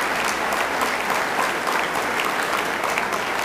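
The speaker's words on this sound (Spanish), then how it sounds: "Así que fuerte aplauso" A seated audience at a national BBVA Bancomer board meeting bursts into sustained, even applause, a dense wash of clapping that holds steady for several seconds without talk over it.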